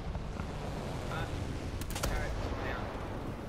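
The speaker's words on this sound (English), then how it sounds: "I'm being strafed!" Machine-gun fire from a strafing aircraft in the War Thunder tank game, a brief rattling burst over a dense, noisy battle background, with faint voices underneath.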